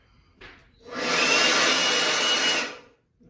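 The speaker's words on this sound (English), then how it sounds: "so my big hair dryer" A large hair dryer switches on with a brief puff, then blows loudly and steadily for about two seconds before cutting off.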